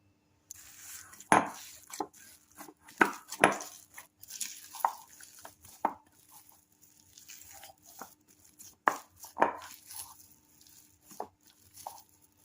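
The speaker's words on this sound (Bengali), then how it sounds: "এবার ময়দাটাকে আমি ভালো করে মেখে নেব।" Risen flour dough worked by hand in a kitchen, soft irregular slaps and squishes coming in close, quiet bursts, with no talk.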